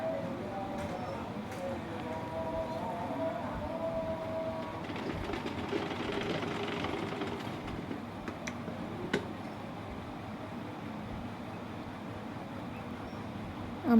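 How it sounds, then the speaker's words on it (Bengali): A sewing machine stitches a ribbon onto a pillow cover with a low, continuous rhythmic whirr and ticking, steady throughout, while a voice is heard speaking over it. "এখন আমি ফিতাটা সেলাই করে নেব।"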